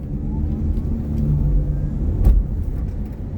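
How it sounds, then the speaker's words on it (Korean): A Hyundai Ioniq 5 electric car speeds up at full throttle, giving a smooth rising whir and road rumble heard from inside the cabin, with a brief thump partway through and no talk. "악셀을 풀 밟아볼게요."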